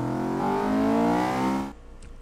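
A Honda Civic Type R engine in the video game Garry's Mod revs up with a rising whine, loud and close, then cuts off abruptly into near silence.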